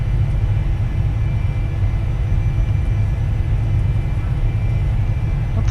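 Cessna Citation business jet in X-Plane 11 accelerating down the runway for takeoff, a loud, steady low engine rumble and roar that fills the whole stretch without letup.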